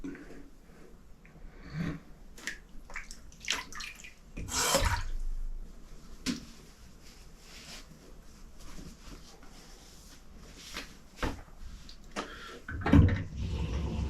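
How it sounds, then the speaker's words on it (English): Water runs and splashes into a bathroom sink at a shaving setup in intermittent near bursts and trickles, with some clatter and soft handling noises between them. "A little juice out of my sink here. Filled it up too much."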